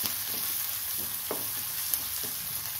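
Finely chopped green chillies sautéing in a pan, a soft, steady sizzle close by with a few light scrapes from stirring, no voices.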